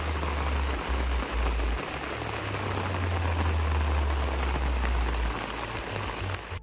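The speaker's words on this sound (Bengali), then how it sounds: "কি জোর বৃষ্টি পড়ছে" Heavy rain pours steadily during a storm, a dense, loud, unbroken hiss of drops on surfaces with a low rumble underneath, lasting the whole stretch with no voices.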